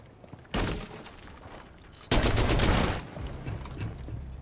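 Gunfire in Rainbow Six Siege aimed at C4: two loud, close bursts of shots, the first brief and the second longer and heavier, heard against low background noise.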